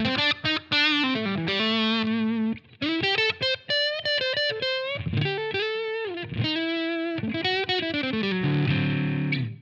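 An electric guitar on the bridge pickup plays through Line 6 Helix HM2-style distortion. Choppy, heavily saturated riffs mix chugging bursts and sustained chords in a steady, loud rhythm with short gaps, with no voices.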